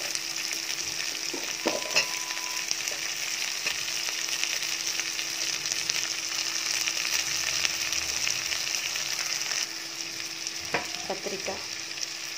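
Drumstick pieces, potato and brinjal sautéing in a pan with sautéed tomato, giving a steady bright sizzle with a few scattered clicks and scrapes of stirring, close and continuous, no talking.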